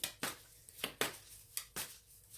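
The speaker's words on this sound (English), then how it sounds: "as I shuffle the cards," Soft, crisp riffling bursts of tarot cards being shuffled repeat about every half second, a quiet, close shuffling rhythm with no talking.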